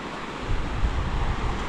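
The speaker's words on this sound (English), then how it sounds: "It's really windy, but it's honestly the perfect weather." Strong wind on a mountain hike near Mt. Hood in the Cascade Range, a dense, blustery rush buffeting the microphone in close, steady gusts.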